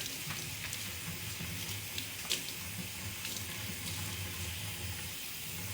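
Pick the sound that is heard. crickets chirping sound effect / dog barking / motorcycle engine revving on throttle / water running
water running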